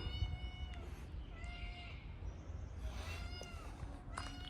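Cats meow and yowl in drawn-out, wavering calls at Wat Chetawan temple in Chiang Mai, several cries spread across the moment over a steady low outdoor rumble.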